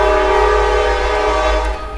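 A train passing very close by, its horn blaring loud and sustained over a deep, rumbling low roar of the cars.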